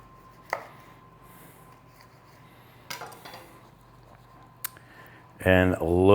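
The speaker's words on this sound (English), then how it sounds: "we're just gonna cut some wedges" A knife slices a tuna melt tortilla sandwich into wedges on a board, with a few sharp, separate cutting knocks against the wood and a voice starting to speak at the end.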